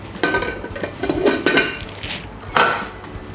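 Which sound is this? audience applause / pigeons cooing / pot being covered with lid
pot being covered with lid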